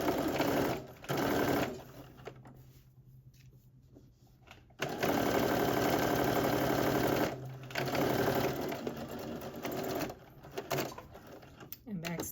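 A sewing machine stitching sweatsuit fabric at a 3.5 mm stitch length runs in long, steady whirring bursts with brief pauses between them, loud and close, while a person talks over parts of it.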